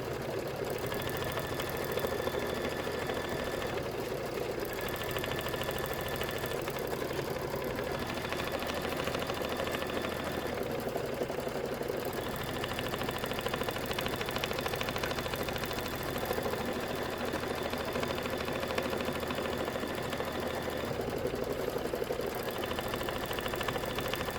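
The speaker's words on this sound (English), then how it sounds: "So we're going to go ahead and stitch that out." An embroidery machine stitches out a quilting stitch, giving a steady, fast mechanical whirring and needle chatter that continues unbroken at moderate volume, with no talk.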